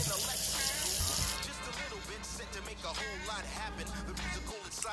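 Cold tap water runs steadily into a bowl while cleaning Reebok sneakers, a loud splashing rush for the first second or so, then a quieter trickle under ongoing talk.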